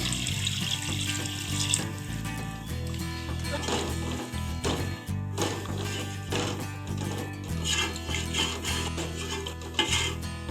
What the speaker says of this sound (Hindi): और इसमें 1 गिलास पानी डाल देंगे।